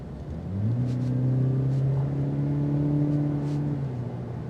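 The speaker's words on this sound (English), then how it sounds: "we're gonna mash on the gas" A 2026 Cadillac CT4 turbo accelerates hard from about 40 mph, its engine note climbing in pitch and then holding a steady, strong drone over road rumble, heard from inside the cabin with no talking.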